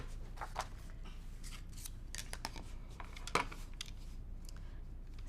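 Scissors snip through quilting fabric being cut into a 3 inch square, a run of short, crisp close-up cuts at an uneven pace, fairly quiet with light handling rustle between snips.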